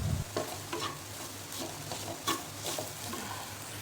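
Vegetables sauté in a pan of oil, a steady close sizzle broken by repeated scraping stirs.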